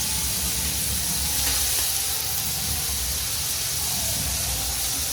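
Potatoes dropped into hot oil with a chili tempering for a Maharashtrian fasting meal sizzle and hiss in a steady, dense spray of frying noise, close and continuous with no talk.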